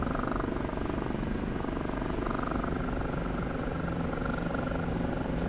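An OH-58D Kiowa helicopter in the DCS flight simulator hums with a steady, dense rotor and engine drone, continuous and even throughout, no voices present.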